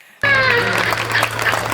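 Audience applause at a Hindi comedy poetry show starts suddenly and stays loud and dense as a broad wash of clapping, with a faint voice briefly audible near the start.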